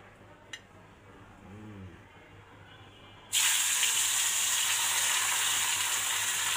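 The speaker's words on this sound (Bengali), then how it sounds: "এখানে অলরেডি তেল দেওয়া আছে কড়াইতে, এখন আমি মাছগুলো ছেড়ে দিব" Fish dropped into hot oil in a wok, starting quiet with a faint clink, then bursting into a loud, steady sizzling hiss that continues to the end.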